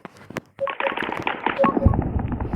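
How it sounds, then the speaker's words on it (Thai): Weapon shots strike the sun in the space game Solar Smash: a few sharp isolated hits, a short pause, then a loud, dense stretch of rapid crackling blasts and rumbling bursts. "เดี๋ยวต้องยิงให้ดวงอาทิตย์มันเหมือนจะพังกัน"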